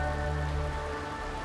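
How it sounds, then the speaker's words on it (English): Steady rain from the video game Honkai: Star Rail pours down in a dense, even patter, loud and continuous for the whole moment with a low droning hum beneath. "This is the sound of rain."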